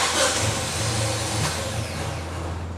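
A car engine cranks and sputters unevenly as it dies, a loud close rough rumble with ragged surges and dips and no clean idle.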